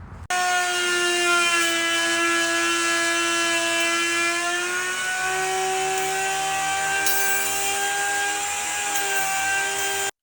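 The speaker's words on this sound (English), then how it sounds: "trim off this edge all the way around with our flush trim bit" A power router with a flush trim bit whines steadily and loudly throughout, its pitch dipping slightly as the bit trims along the wooden edge of a coffee table close by.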